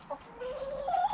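Backyard hens give a short, close run of soft clucks and rising warbling calls lasting about a second, with no talk.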